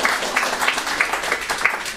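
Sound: audience clapping

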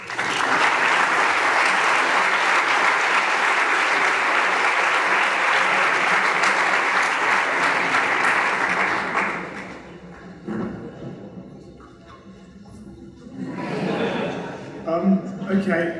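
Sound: audience applause at an awards gala

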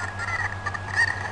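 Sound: chicken (cucco) clucking in video game Zelda Ocarina of Time

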